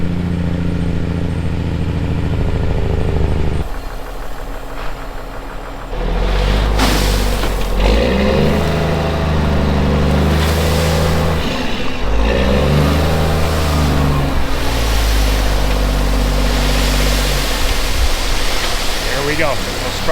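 A truck rumbles in loud and near, its engine revving and roaring as it arrives to deliver item 4 gravel at a rural farm construction site, with a steady broadband wash throughout and brief talk mixed in.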